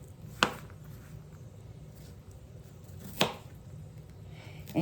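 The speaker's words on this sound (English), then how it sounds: "you can chop your onion as big or as small as you want" Knife chopping half an onion on a chopping board at home, with a few sharp separate chops spread over a quiet background.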